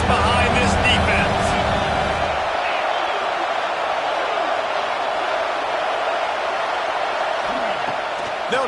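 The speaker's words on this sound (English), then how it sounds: "Big 3rd down as the crowd gets behind this defense." Stadium crowd at an Oregon versus Ohio State football game roars steadily for the defense on third down, a loud, sustained wash of cheering with a heavier rumble in the first couple of seconds.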